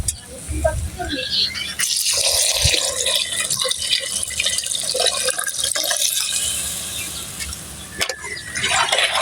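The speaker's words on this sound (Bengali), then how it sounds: "পানিটা দিয়ে দিই" Water pours steadily into a cooking pot of spices and bay leaf for khichuri, a broad rushing splash with some clatter, while a voice talks intermittently over it.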